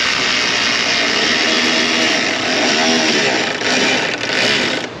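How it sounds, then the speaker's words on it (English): A hose clamp tightened on the fuel filter of a 1990 Ford Mustang Foxbody GT 5.0, heard as a continuous buzzing whir of a power driver, close and loud, with slight dips in pitch and level. "Let's go ahead and tighten our clamp."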